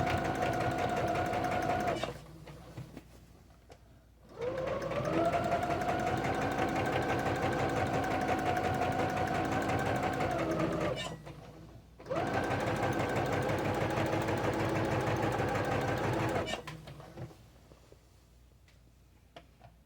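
A sewing machine runs in three steady stitching bursts with a rapid mechanical chatter, separated by brief pauses, while sewing lined kitchen curtains.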